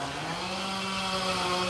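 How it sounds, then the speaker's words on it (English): A chainsaw engine revs steadily at a high buzzing pitch on a nearby street a block away, a continuous droning whine with no talking. "I think he's just revving that saw."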